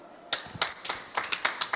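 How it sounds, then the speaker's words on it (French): Audience applause at a live French show welcoming a guest, a few brief scattered claps, fairly quiet and thin rather than a full ovation. "Je vous demande d'accueillir et d'applaudir Monsieur Vroom."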